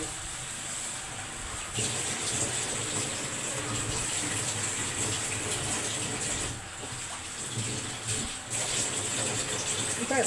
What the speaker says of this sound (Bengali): এই বাটিটা দিয়েই জলটা দেব কারণ মাছ এবং বেগুন দুটোই সেদ্ধ হবে